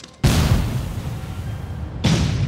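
Two heavy cannon blasts in Dead Rising 4, a booming shot followed by a long rumbling decay, then a second loud blast about two seconds later, with no talking.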